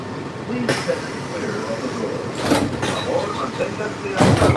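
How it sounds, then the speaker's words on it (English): Walt Disney World Monorail Red's doors slide shut amid cabin rumble and ambient noise, with a couple of brief whooshing bursts as the doors move and close. "Doors closing."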